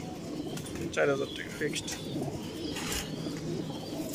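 Racing pigeons coo softly at a large pigeon farm, low murmuring calls and a few chirps mixed under someone talking loudly nearby.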